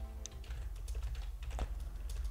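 Rapid, fairly quiet clicking of a computer keyboard, with irregular keystrokes close to the microphone over a low steady hum.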